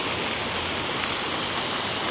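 Water pours steadily into the refilled lagoon water feature at the Mirage in Las Vegas, giving a continuous loud rushing wash with no pauses.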